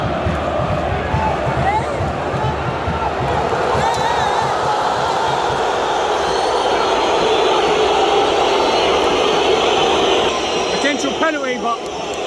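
A football stadium crowd in Istanbul roars loudly and steadily as a penalty is appealed, a dense wash of voices that swells briefly near the end.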